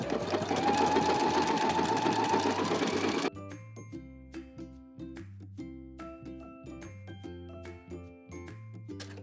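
A sewing machine stitches fabric along a 3/8-inch seam allowance with backstitching. It whirs loudly and steadily for about three seconds, then drops to quieter, intermittent mechanical ticking and clunks, with no voices.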